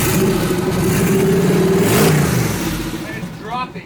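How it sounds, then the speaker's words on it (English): A twin-turbo Chevrolet S10 engine is revved up, rising to a loud sustained roar that then falls back, with voices talking over it near the end. "Now watch, right here, 42, and I rev it."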